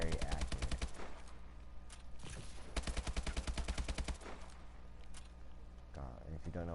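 AK-12 assault rifle firing in Call of Duty Ghosts, rapid full-auto bursts of sharp cracks separated by short pauses, loud and close.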